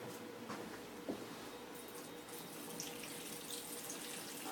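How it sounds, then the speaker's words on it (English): A running water tap as someone washes their hands at a sink during a clinical examination, a steady continuous splash and gush lasting throughout, fairly close, with no talking over it. "Please allow me to wash my hands."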